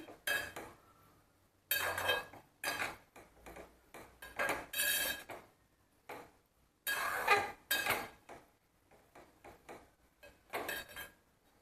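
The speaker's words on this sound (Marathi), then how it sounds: "इथं आपण एक चमचाभर तूप घालायचं मिक्स करून घेऊया" Boondi being mixed with a spoonful of ghee in a pot for motichoor laddoos: a spoon repeatedly scraping and clinking against the metal pot in short bursts with quiet gaps, close and clear.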